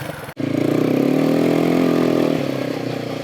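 Quad bike engine revving hard offroad in Spain, a brief cut then a loud sustained throttle climb with buzzy harmonics that eases off toward the end, close and alone.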